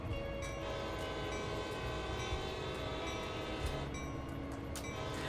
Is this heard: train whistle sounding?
yes